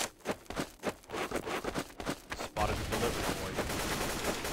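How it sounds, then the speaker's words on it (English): Rapid gunfire from a Counter-Strike Source mod game, sharp repeated shots in quick bursts for the first half, then a denser continuous rattle of automatic fire and game ambience; no talk audible. "Spotted the delivery point. Taking fire! Need support!"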